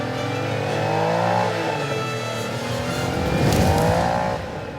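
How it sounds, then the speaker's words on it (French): A DeLorean time-machine car accelerating hard, its engine note climbing in two rising revving sweeps, loud and close with no talk. "La DeLorean, la super voiture à remonter le temps"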